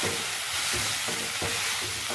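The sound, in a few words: stir-frying sambar ingredients with turmeric and salt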